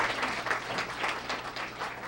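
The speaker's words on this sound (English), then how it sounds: "Give her a big round of applause" Applause at a high school Student of the Month ceremony for the principal and a student, a soft, somewhat distant patter of clapping from a modest crowd.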